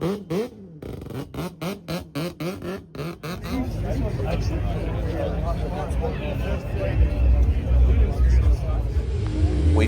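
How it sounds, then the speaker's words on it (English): Rotary-engined VL Commodore revving at the Adelaide Motorsport Festival, with sharp rhythmic throttle blips that give way to a loud, sustained engine roar, while people talk over it. "a local Adelaide legend, Low Standards J, in his rotary VL Commodore."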